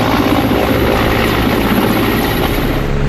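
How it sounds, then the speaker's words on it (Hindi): Military helicopters over disaster-struck mountains give a loud, continuous roar of rotor and engine, close and steady for the whole stretch, with no voices. "पहाड़ों पर हेलीकॉप्टर की लगातार गर्जना एक उम्मीद है तबाही से जूझ रहे"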